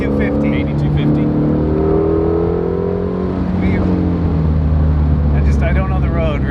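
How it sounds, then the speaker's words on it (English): A Ford Mustang GT350 engine revving hard from inside the car, its loud tone sweeping upward in long climbing pulls with a shift or lift midway, while people talk briefly over the engine noise. "Trying to get a feel for the revs."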